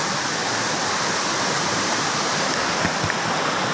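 Fresh river water from Kilimanjaro rushes steadily over rocks, a dense, even roar close to the microphone with no pauses.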